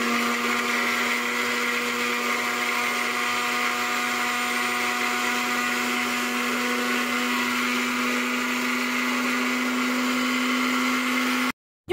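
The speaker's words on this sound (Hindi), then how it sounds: "अब इनको करते हैं ग्राइंड, इनको पाउडर बनाते हैं।" Electric grinder pulverizing roasted spices into powder, a loud steady motorized whir with a constant hum running unbroken for about eleven seconds before cutting off abruptly.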